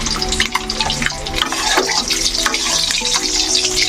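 Turmeric-coated eggs frying in hot oil, giving a loud, continuous sizzle with scattered pops and crackles throughout, and no voices.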